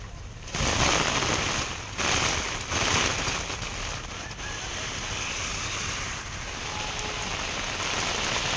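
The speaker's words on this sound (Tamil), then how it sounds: "சுமார் 1 மணி நேரமாக கருமேகம் சூழ்ந்து கனமழையானது பெய்து வருகிறது" Heavy rain pours down in Madurantakam and Seyyur, Chengalpattu district, a loud, dense, continuous hiss of drops striking surfaces with no voices.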